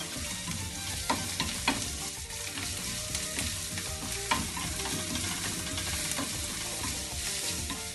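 Sliced onion and hot green chili frying in a pan for palak paneer, a continuous close sizzle with occasional stirring scrapes and clinks.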